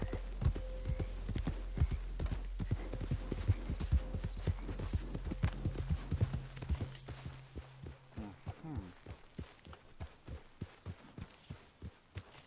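Horse hooves clip-clop in Red Dead Redemption 2 as the horse walks into camp, a steady close rhythm of hoof strikes over a low droning background that drops away midway, leaving the footfalls alone.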